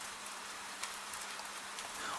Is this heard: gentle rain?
yes